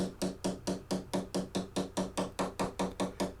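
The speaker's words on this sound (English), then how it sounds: "I use my dead blow fretting hammer." Fourteen evenly spaced, sharp taps of a dead blow fretting hammer seating a fret on a Guild F212XL guitar, in a steady quick rhythm, each a short wooden knock, close by with no talking.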